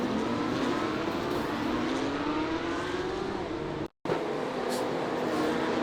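Porsche race cars in iRacing sweep past in a steady, loud engine roar that rises slightly in pitch, with a brief cut to silence near the end before the droning pack resumes.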